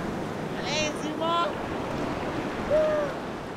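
Ocean surf rolls at Sassandra beach in Côte d'Ivoire as a broad, steady wash of waves with wind noise, and brief voices or calls cut through near the start and end.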